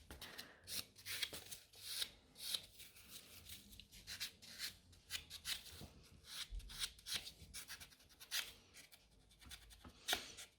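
Quiet, close scratching of a nail buffer filing a client's nails and pushing back the cuticles, in irregular short back-and-forth strokes.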